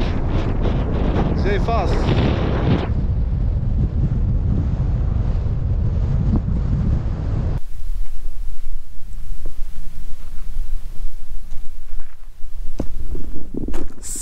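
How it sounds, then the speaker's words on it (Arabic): Strong wind buffets the microphone in a steady roar throughout, on a road beside Oued Assif Melloul in Morocco, with a person briefly speaking at the start. "شي واحد الريح بجد"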